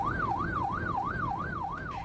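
An emergency siren wails close by with a steady up-and-down sweep of about five cycles, loud over a low road rumble, as a police escort and a vaccine ambulance pass.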